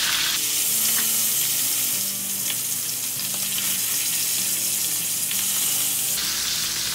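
Matsusaka pork sears in a hot pan with a steady, loud sizzle and crackle that runs throughout, with faint scraping or stirring sounds mixed in and no talk.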